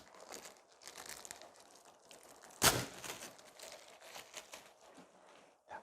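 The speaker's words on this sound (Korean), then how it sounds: "비닐을 이렇게 제거해 줍니다." Thin plastic wrap peeled away from the rooted soil ball of an air-layered tree branch, a steady run of soft crinkling with one sharp, louder crackle partway through, close and quiet with no talk.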